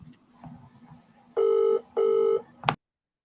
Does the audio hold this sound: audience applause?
no